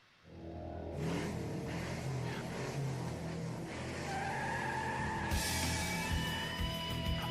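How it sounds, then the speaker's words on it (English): Race car engines start and rev at an auto racing event, a loud mechanical roar rising sharply after a brief quiet opening, then holding steady with higher-pitched whines layered in, heard alone without talk. "Drivers, start your engines."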